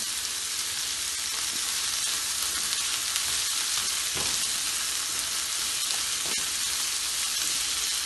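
Green chillies frying in a pan make a dense, constant hiss of hot oil that stays loud and even throughout, with a few faint taps from a utensil.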